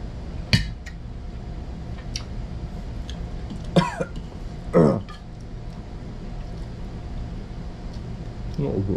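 Someone coughs a few times, in short bursts spaced a few seconds apart, against a steady background with light clinks of dishes and cutlery.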